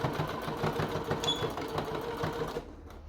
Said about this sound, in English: So just doing a back stitch there to lock the stitch in, and off we go, just stretching it